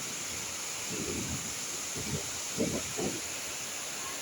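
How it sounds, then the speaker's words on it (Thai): A wind and rain storm with flooding produces a steady, faint wash of hiss, broken by a few soft gusty rustles. "ทั้งลมทั้งฝน"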